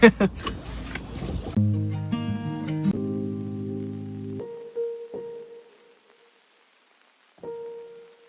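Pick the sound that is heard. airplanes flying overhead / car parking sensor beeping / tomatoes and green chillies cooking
car parking sensor beeping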